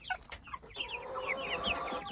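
Plymouth Barred Rock chickens cluck steadily inside a coop, a close, busy run of short overlapping calls that keeps going without any talk.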